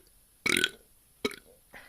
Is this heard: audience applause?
no